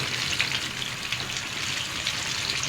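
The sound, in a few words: chicken wings frying in oil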